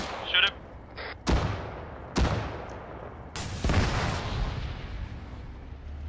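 Heavy gunfire from a T-72 tank's coaxial machine gun in the military game ArmA 3, heard as several sharp booming shots spaced about a second apart, each with a long rumbling tail, loud and close.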